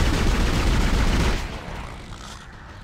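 Gunfire in the horror video game Dead Space: a dense, loud barrage of rapid shots that roars steadily, then cuts off abruptly and fades into a lingering echoing tail.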